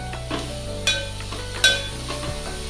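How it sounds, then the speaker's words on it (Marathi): Grated fresh coconut roasting in a pan gives a soft, steady crackling sizzle with two sharper scrapes of stirring, close by and with no voices. "खोबऱ्याचा हा जो चुरचूर चुरचुर आवाज येतोय तो आवाज थांबेपर्यंत खोबरं परतून घ्यायचं"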